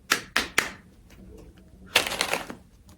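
Tarot cards get shuffled by hand in three quick riffling bursts, then a pause and a longer rustling shuffle, close and crisp with soft background noise.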